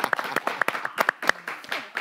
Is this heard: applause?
yes